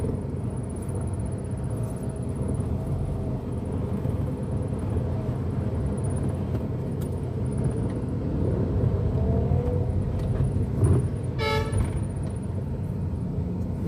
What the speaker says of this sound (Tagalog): Medyo matraffic lang mga ka-driver